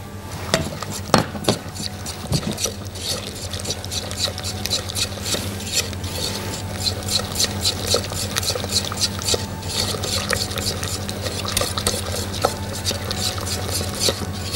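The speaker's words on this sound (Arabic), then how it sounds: "نقلبهم ونرجعهم على النار." A chocolate mixture is stirred in a pot on the stove, with a steady scraping and light clinking of a utensil against the pot running throughout, close and moderately loud, without talk.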